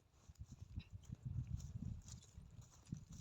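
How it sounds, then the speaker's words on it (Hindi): A bullock walks along a forest path, its hooves thudding in a soft, uneven clip-clop rhythm, faint and close to the ground with light rustling around it. "वो उधर बैल चल रहा है"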